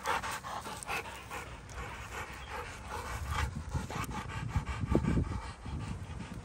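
Dogs pant rapidly and steadily nearby, quick breathy huffs in a continuous rhythm, with a few louder snuffles.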